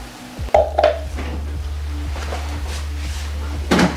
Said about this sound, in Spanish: Y con cuidado lo vamos a mezclar.